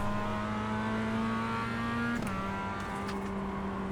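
Mazda MX-5 race cars in the iRacing game on a drying track at Motorsport Arena Oschersleben, one engine held at a steady high drone before shifting down in pitch, close and continuous with no talk.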